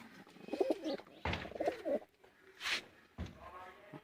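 A pair of teddy pigeons coos up close, with soft rolling bursts of cooing broken by short pauses and a brief higher chirp.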